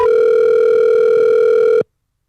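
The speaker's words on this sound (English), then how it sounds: "I'm calling you right now" A telephone ringback tone on an outgoing call: one steady, loud electronic tone holding for nearly two seconds before cutting off cleanly, with nothing else heard.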